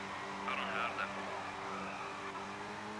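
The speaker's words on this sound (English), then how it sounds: "they use the same tyre screech as in the first TOCA Touring Car Championship" A rally car skids through gravel in the Colin McRae Rally video game, with a brief tyre screech over a steady engine drone while a voice talks faintly underneath.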